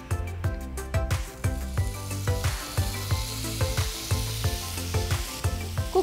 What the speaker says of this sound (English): Next, I'm going to fry the paneer.